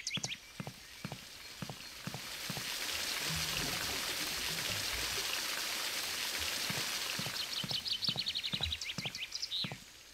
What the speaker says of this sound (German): ich muss noch mal kurz duschen